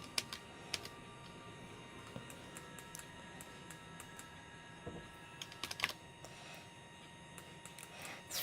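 Fast, uneven clicking of computer keyboard keys, quiet and close, with scattered sharper taps over a low steady hum and no talking.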